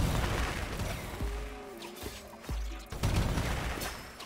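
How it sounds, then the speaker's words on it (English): Rockets cast repeatedly in the action game Have A Nice Death, a rapid barrage of bursts and crashes with short whistling launches, fairly close, no talking. "I'm really just casting the rockets every now and then"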